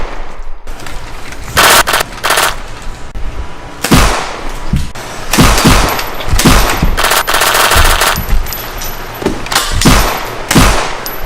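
Rapid gunfire effects for a HitFilm action scene, loud close bursts of shots in irregular clusters, some quick automatic strings and single cracks, filling the whole stretch without talk.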